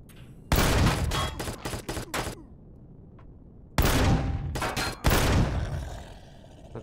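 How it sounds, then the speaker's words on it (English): Heavy bursts of turret gunfire in the sci-fi survival game Empyrion Galactic Survival, Reforged Eden, loud close rapid volleys in three clusters separated by brief quiet gaps, no speech. "Stop shooting me, bro."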